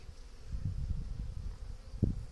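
Honey bees with Russian queens buzz steadily around a hive, a close, continuous low drone with small swells and one brief louder burst near the end.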